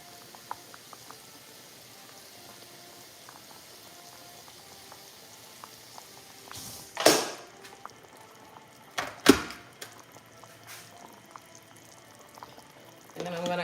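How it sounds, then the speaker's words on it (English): Water heating in a pot for homemade chicken soup gives a faint, steady simmering hiss, broken by a few louder clatters and splashes partway through. "what I'm gonna do is go ahead and boil some water"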